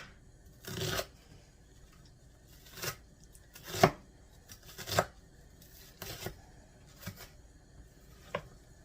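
A knife chops an onion thin and small on a board for veggie spaghetti, with about eight or nine separate crisp cuts spaced irregularly and heard clearly against a quiet background.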